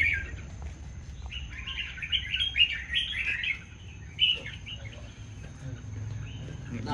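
A red-whiskered bulbul sings in bright, warbling phrases, close and fairly clear, with pauses between bursts over a low background rumble.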